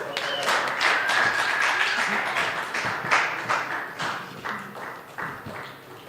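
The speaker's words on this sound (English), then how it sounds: "Another round of applause for Lyle Larue" A bar audience at an open mic night claps and whoops after a performer's set, a lively burst of close handclaps with scattered cheers and voices mixed in.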